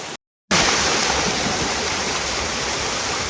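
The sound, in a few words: waterfall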